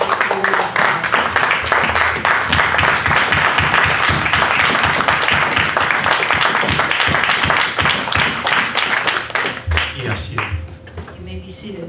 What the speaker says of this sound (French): Une minute d'acclamation à la parole de Dieu.